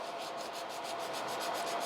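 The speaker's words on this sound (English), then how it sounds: "file one side and file other side" Builder gel nails being filed to reshape them, a steady close abrasive rasping with fast regular back-and-forth strokes, continuous and fairly loud with no talking.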